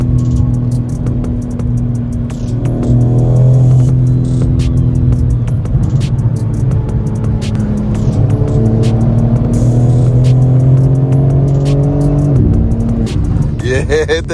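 BMW G82 M4 with an aftermarket exhaust accelerating hard, a loud droning engine note climbing in pitch through gears from inside the car, with a sharp change near the end and voices underneath.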